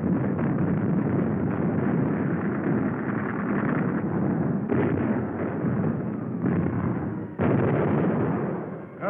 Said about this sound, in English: Ships all up and down the line joined in the barrage.